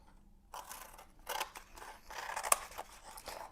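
Scissors snip through a paper page from a composition-book art journal, giving several crisp cuts and scraping blade strokes, close and clear with no talking.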